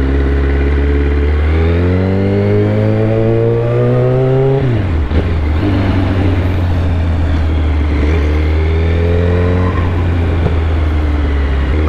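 A motorcycle engine revs hard to high RPM, climbing steadily in pitch, dropping briefly and then rising again. It is loud, close and continuous, with no voices.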